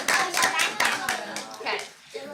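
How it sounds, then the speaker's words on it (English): A brief, scattered round of hand clapping at a school district board meeting, mixed with people talking and a voice over it before it dies down. "Let's all give a round of applause for Emily."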